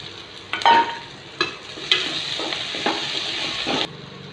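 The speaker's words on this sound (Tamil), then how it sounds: "நறுக்கி வச்ச 2 உருளைக்கிழங்கை சின்ன சின்ன பீஸாக கட் பண்ணி அதில் வதக்கிடலாம்" Potato pieces sizzle steadily in a hot pan for a Kerala-style mutton curry while a utensil scrapes and stirs in several distinct strokes, close and fairly loud.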